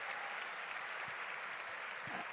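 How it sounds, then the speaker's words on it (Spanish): An audience gives a round of applause for Óscar Parrilli, a soft, distant and even patter of many hands with a few low thumps. "le pedimos un gran aplauso"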